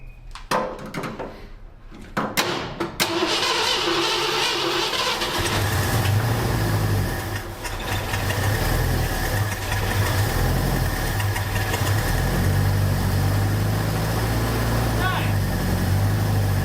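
A forgotten 1952 Ford engine is jumped at the solenoid: clicks and a brief cranking, then it catches into a loud, rough, steady idle that runs on close by, with some knocking in the sound.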